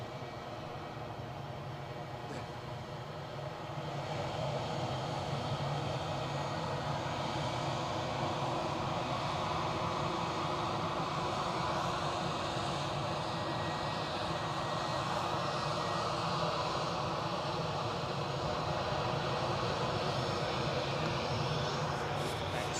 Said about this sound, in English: the Ryanair you are looking at, off to wonderful Copenhagen